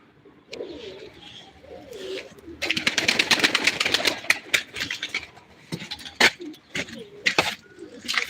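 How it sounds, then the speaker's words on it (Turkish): Pigeons on a terrace coo softly beneath a dense patch of fluttering, clattering wing and foot noise, with sharp knocks scattered throughout; they sound close and fairly loud. "Şimdi kuşlar terasta duruyor"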